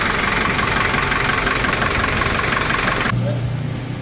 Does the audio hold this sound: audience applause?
no